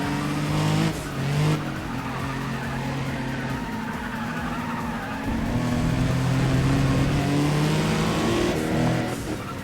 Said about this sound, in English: This car sounds awesome.